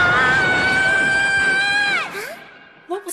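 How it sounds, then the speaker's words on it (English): A loud, sustained high-pitched scream in an animated school comedy, holding steady for about two seconds before sliding downward and breaking off, followed by a few brief quieter vocal sounds. "That was certainly a deafening scream."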